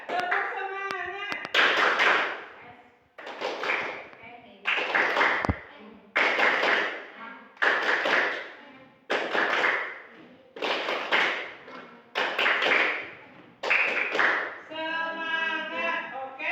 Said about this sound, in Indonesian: Yuk sekali lagi, yang benar. Tepuk semangat.